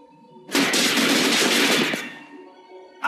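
A loud, close burst of rapid automatic gunfire in the video game Silent Storm rattles for about a second and a half, then decays, with another shot starting right at the end.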